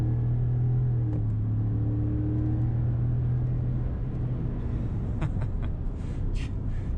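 A 2018 Ford F-150 XLT SuperCrew 5.0 V8 engine revs with a loud, steady low rumble, fading into idle, followed by a few faint clicks near the end.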